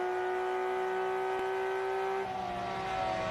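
A video-game Mini Cooper fitted with a swapped RB26 engine and turbo holds a steady high drone, then the pitch shifts and drops slightly as the revs change, with no talking.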